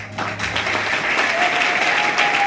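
A church congregation claps and cheers together in a dense, loud, sustained roar of applause that swells and holds steady.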